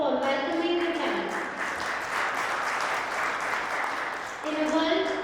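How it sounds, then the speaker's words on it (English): Applause from a conference audience welcoming a panel, a steady wash of clapping across the hall with a faint voice or music tone underneath at the start and end. "Please join me with a round of applause for welcoming the panel."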